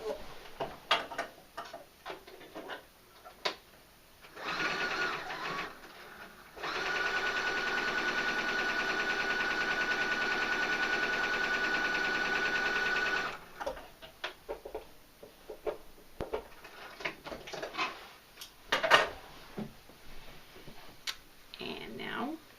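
A domestic sewing machine stitches quilt block pieces in a steady, fast whirring run of about seven seconds, preceded by a shorter burst and framed by fabric handling and clicks.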